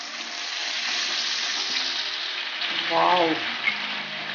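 Chicken pieces for a crispy KFC-style zinger burger frying in hot oil give a steady, soft sizzle throughout, with a brief exclamation from a voice partway through.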